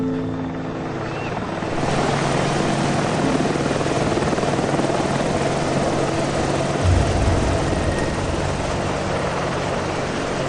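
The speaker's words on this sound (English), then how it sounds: "Oh, in comes a helicopter." A helicopter arriving in the video game Evil Genius, a steady loud rotor and engine drone that swells slightly after a couple of seconds and continues without a break.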